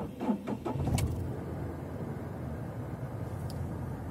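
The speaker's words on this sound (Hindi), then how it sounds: "मैं वो कार भी स्टार्ट कर लेता हूँ" A 2017 Tata Tigor's engine cranks and catches with a short burst of noise, then settles into a steady low idle hum heard from inside the car.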